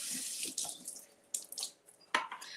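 Tap water runs steadily to rinse fresh parsley in a kitchen sink, a close, soft hiss broken by splashes and bursts where the leaves are moved under the stream, with nobody talking.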